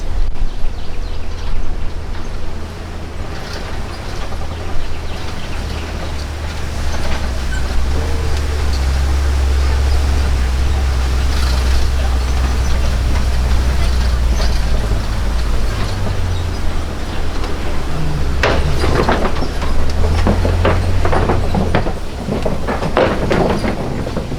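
Open safari truck rumbling along a dirt track on the Kilimanjaro Safari ride at Disney's Animal Kingdom, a loud continuous low engine drone with wind and rattles, faint voices now and then.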